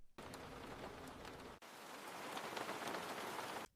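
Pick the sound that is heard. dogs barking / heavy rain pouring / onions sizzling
heavy rain pouring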